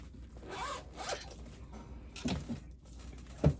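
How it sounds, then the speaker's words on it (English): A clothing zipper rasps in several short pulls, close and soft, with brief pauses between strokes and a sharper catch at the end. "my zipper got in the way"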